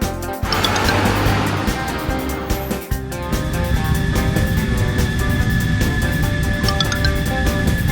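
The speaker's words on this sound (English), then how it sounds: "Garbage truck." A garbage truck's engine runs loud and steady close by with a broad rumble, a brief dip near the three-second mark, and tonal whine layered over the drone.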